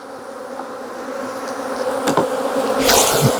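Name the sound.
honey bees being shaken from a hive box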